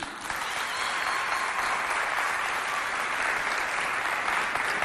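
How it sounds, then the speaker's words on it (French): A crowd at a television show in Chad claps in a steady, sustained burst of applause, dense and even from start to finish. "applaudissez pour vous"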